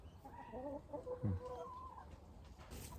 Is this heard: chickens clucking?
yes